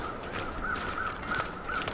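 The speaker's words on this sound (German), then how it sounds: "Da schon wieder die Krähen." Crows caw in the survival video game The Long Dark, four short, evenly spaced calls sounding from a distance over a steady wind-like wash.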